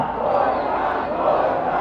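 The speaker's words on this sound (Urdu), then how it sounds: "بلاول بھٹو زرداری نے عمران خان کے خلاف نعرے لگوا دیے" A large crowd at a Pakistan Peoples Party rally in Karachi chants slogans against Imran Khan, a dense, loud roar of many voices filling the whole stretch.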